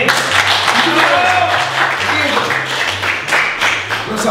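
Audience clapping at a stand-up comedy show: a continuous, fairly loud spread of applause mixed with music and some voices throughout.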